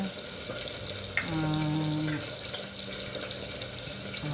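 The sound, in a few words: frying fish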